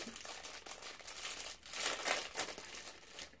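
Paper crinkles and rustles close by in uneven bursts, quiet overall with brief louder crumpling in the middle.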